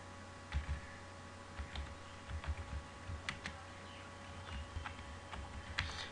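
Program code is typed on a computer keyboard in an irregular run of soft key clicks and taps, close and quiet with no speech.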